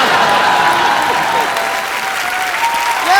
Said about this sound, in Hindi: तुम तालियां क्यों बजा रहे हो?